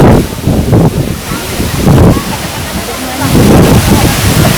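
Water pours at the Curug Bidadari waterfall in a loud, steady roar with rumbling low surges and wind buffeting the microphone close by.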